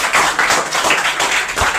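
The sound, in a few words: clapping in a classroom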